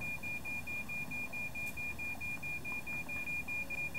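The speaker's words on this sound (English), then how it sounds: "Is that our carbon monoxide alarm going off?" A carbon monoxide alarm beeps in a steady series of short, evenly spaced, high-pitched tones over a low background rumble, with no talking.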